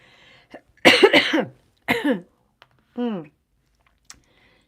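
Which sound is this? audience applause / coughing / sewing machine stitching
coughing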